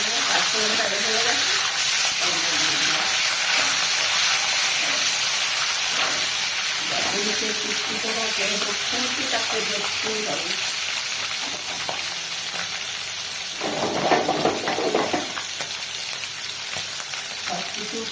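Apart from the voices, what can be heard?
panch phoron spices frying in oil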